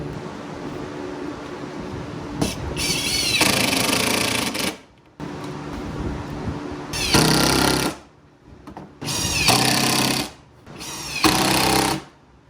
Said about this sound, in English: I think I'm gonna use some screws, just countersink those so that they hold up a little bit more over time.